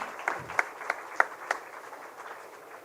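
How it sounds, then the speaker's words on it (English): A small audience at a college initiation day gives a brief round of applause, a few distinct claps standing out over light scattered clapping that quickly fades, fairly faint. "Give them a good round of applause."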